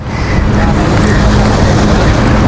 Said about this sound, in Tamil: என்ன காற்று அப்படி அடிக்குதாங்க சுற்றி சுற்றி அடிக்குது